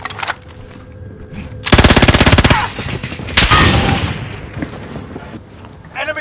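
Automatic gunfire crackles in the Call of Duty shooter Warzone, with a dense burst of rapid shots and a heavy boom over a busy battle background, while a voice speaks briefly at the start.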